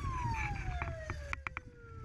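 A siren wails at an oil depot during a fire drill, its tone sliding steadily downward and staying loud and continuous while sharp clanks sound beneath it.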